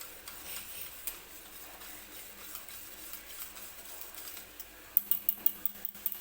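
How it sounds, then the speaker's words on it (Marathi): Yogurt mixed with a pinch of turmeric for kadhi, stirred in a bowl: faint, quiet scraping and swishing, ending in a series of sharp, evenly spaced clicks from the spoon against the vessel. "परत व्यवस्थित मिक्स करून घ्यायचा आहे"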